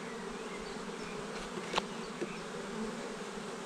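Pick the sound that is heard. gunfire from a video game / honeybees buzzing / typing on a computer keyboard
honeybees buzzing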